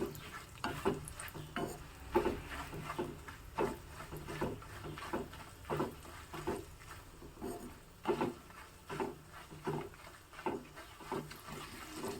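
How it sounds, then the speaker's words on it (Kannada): Dry red chilies and chopped coconut tempering in hot oil in a pan, a steady close sizzle broken by repeated scraping and stirring strokes, with no talking. "ಒಣಮೆಣಸು ಮತ್ತೆ ಕೊಬ್ಬರಿಯನ್ನು ಹೆಚ್ಚಿ ಹಾಕಿದ್ದೀನಿ"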